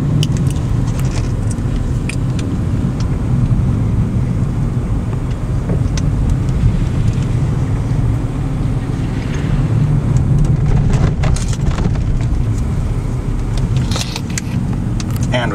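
A car drives the winding mountain roads of El Yunque rainforest in Puerto Rico, a loud continuous engine and road roar with interior rattles and clinks throughout.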